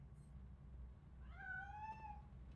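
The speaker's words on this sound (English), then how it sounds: "That cat must be hiding inside." A cat in Robocop: Rogue City gives a single clear, drawn-out meow from hiding, fairly faint against a low background hum.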